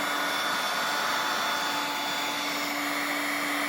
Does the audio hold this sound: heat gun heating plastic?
yes